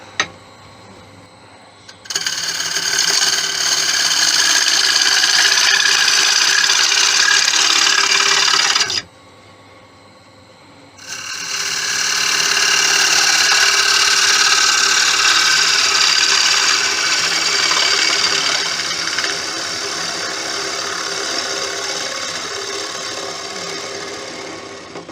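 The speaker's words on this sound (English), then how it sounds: "And it's just a quick hollowing." A lathe tool hollows out a wooden salt bowl with a steady, loud scraping whir that runs for several seconds, pauses briefly, then resumes and gradually softens toward the end.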